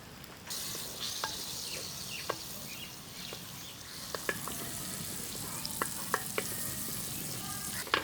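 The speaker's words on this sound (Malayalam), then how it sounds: "ബട്ടർ ഇതാ നല്ല രീതിയിൽ അലിഞ്ഞ് വന്നിട്ടുണ്ട്" Butter melting in a pan for a Kerala-style vegetarian oats soup, giving a steady soft sizzle with scattered small pops and crackles, fairly quiet and close, no voices.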